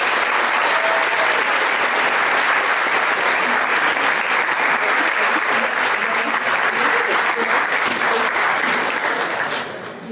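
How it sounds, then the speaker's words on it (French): Sustained loud applause from a conference audience for two speakers at a running-injury clinic event, a dense steady wash of clapping that tapers slightly at the end. "je vais vous demander un tonnerre d'applaudissements pour nos deux intervenants, Flavio Bonnet et Florence Morisseau."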